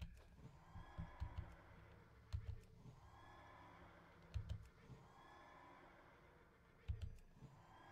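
A horse in the World of Warcraft video game neighs and whinnies in several repeated bursts, with hoof clops and low thumps, moderately close over a quiet game background.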